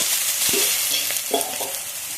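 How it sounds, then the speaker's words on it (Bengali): Spice masala with salt and mutton fat being fried for ghugni, a close hissing sizzle with quick scraping stirs of a spoon across the pan, no speech. "স্বাদ মতো নুন দিয়ে মশলাটা ভালোভাবে কষিয়ে নেবো"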